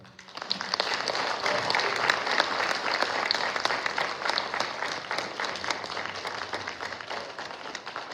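A middle school band concert audience applauds the band teacher, a dense wash of clapping that swells quickly and holds steady at moderate volume.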